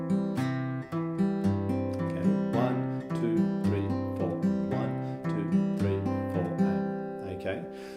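Fingerpicked guitar plays a repeating low bass pattern with plucked notes ringing on top, steady and clear at moderate volume.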